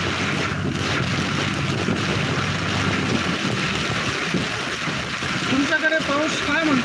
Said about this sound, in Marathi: येवला तालुक्यात मुसळधार पावसाला सुरुवात झालेली आहे